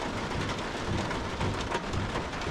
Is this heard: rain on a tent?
yes